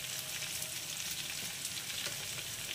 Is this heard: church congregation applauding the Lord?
no